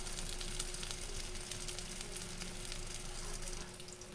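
Egg and french fries frying in a pan, a steady close sizzle and crackle running unbroken throughout, easing slightly near the end.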